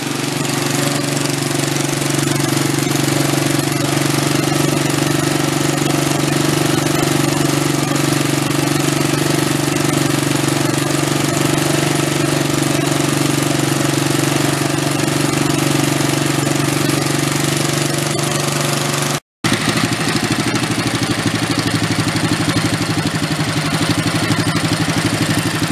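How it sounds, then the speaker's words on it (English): Big engine fitted into a 1960s Corvair Monza toy, running at high idle in a loud, steady, rumbling drone with a knocking edge, broken by one very brief dropout near the end. "I turn the idle way up so it'll burn it off."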